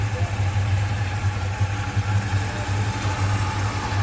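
A 1968 Dodge Coronet 440 engine idles smoothly, heard up close with the hood open and an aluminum radiator fitted, a steady loud low rumble with no speech.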